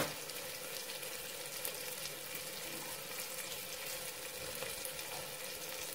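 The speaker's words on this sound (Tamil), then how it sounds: "தக்காளி நல்லா வதங்கட்டும்" Tomatoes sautéing in a pan for a curry give a steady, close sizzle of frying with faint stirring, holding an even level throughout with no talking.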